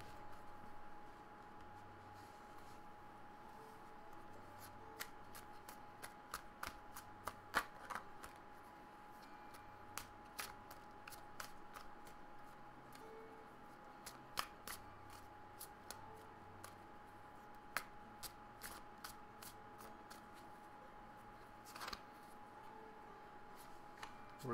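A deck of Everyday Witch Tarot cards is shuffled thoroughly and at length, with soft riffling and repeated sharp card snaps and taps over a quiet room background.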